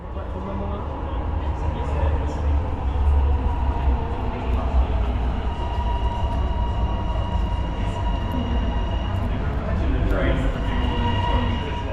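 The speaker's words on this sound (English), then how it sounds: "Our train for the day was HCMT set 63, which arrived from the west" HCMT set 63, a High Capacity Metro Train on test, arrives through the Metro Tunnel from the west, producing a steady, loud rumbling roar with some squealing overtones, and there is speech.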